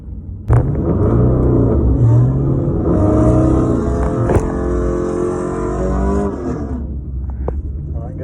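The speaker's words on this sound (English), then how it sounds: "I am going to do a burnout this time though to see if we can get a little more sticky" Drag car burnout at Thundervalley test and tune: a loud, sustained engine roar with spinning tire rising from about half a second, holding steady for several seconds and fading near the end.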